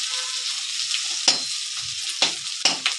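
Chopped potatoes go into a pan of onions fried until reddish with minced garlic, setting off a loud steady sizzle, with several sharp scraping stirs of a utensil over the hiss.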